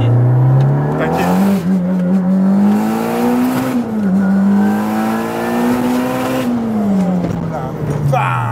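A 600 hp Audi S3 in race boost mode accelerates at full throttle, its loud engine tone climbing through the gears with brief dips at the shifts, close up and continuous.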